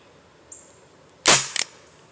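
An Elite Force H8R airsoft revolver fires one sharp, loud pop up close, followed a moment later by a quick double click, after a faint brief hiss.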